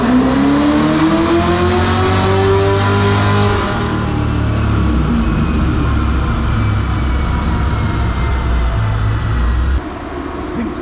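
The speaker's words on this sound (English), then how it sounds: "Spun the tires." A loud race car accelerates hard nearby, its engine climbing in pitch for a few seconds before shifting to a rough, sustained roar as the tires spin, then cuts off abruptly near the end.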